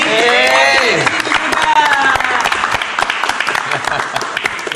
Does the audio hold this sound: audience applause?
yes